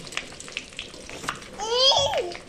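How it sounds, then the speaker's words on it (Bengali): Fish roe frying in a pan over a low flame gives a soft, close sizzle with light stirring clicks, and a voice babbles briefly over it near the end. "মাছের ডিম ভাজছি"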